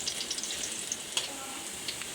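Chopped onions and green chillies frying in hot oil in a home kitchen pan, a steady close sizzle with faint crackles and a few brief stirring clicks, no voices.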